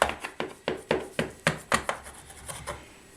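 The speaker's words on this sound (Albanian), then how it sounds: "Marrim një thikë të madhe dhe fillojmë ta presim" Large knife cutting through a tray of Albanian baklava, about eleven crisp crunching chops in a quick steady rhythm, close and alone, fading slightly toward the end.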